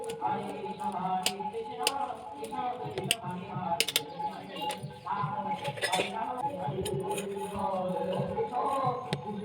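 A knife chops a single chili pepper on a cutting board while making white pasta, giving quick, crisp taps in uneven clusters, fairly quiet, over soft background tones and a voice.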